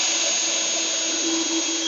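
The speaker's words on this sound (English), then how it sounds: "We're going to take our drill and start drilling in." A power drill bores into a plywood drawer slide, a steady high-pitched whine held close and loud for under two seconds, with no voices.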